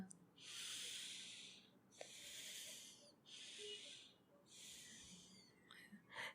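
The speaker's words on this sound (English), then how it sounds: "So like slow deep breathing." Slow, deep breaths, heard close and soft: four or five long airy inhales and exhales in an even rhythm with short pauses between them, and nobody talking.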